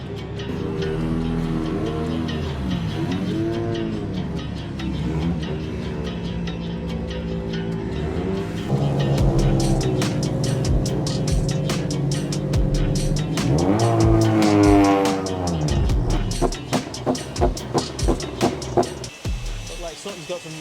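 A touring race car in a race, its engine roaring loud and close through rising and falling revs and gear changes, with rapid pulsing near the end, while voices talk over it.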